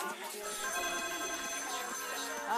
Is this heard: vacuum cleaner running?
no